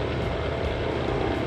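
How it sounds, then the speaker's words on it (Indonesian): A helicopter passing overhead near a riverside village, a steady loud rotor and engine drone filling the scene without any voices. "Nah, ini suara huru-huru, ternyata di atas tuh ada helikopter ya"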